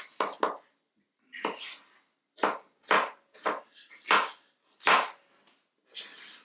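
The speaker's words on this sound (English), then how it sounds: "we're chopping these, so these are good sized chunks" A knife chops pork chops into chunks on a cutting board, with about nine sharp, distinct strikes in an uneven rhythm, close and fairly loud, with short pauses between them.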